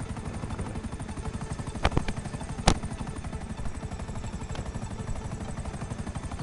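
A helicopter in a prison break video game thrums with a steady, rapid rotor pulse throughout, close and loud, broken by a couple of sharp, brief cracks near the middle.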